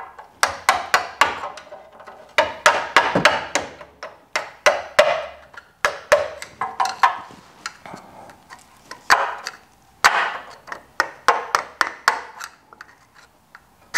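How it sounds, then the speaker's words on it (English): Hammer beating rust off a Toyota truck part: rapid bursts of sharp metallic taps, close and loud, in irregular clusters with brief pauses between, no voices. "we're just gonna take a hammer, beat a little bit of that rust off"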